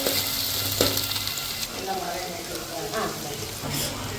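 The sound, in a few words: onions and curry leaves sautéing in pan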